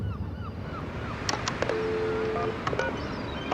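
A telephone number is dialed as a quick series of short DTMF keypad tones, faint and fairly close, over a soft hiss of background noise.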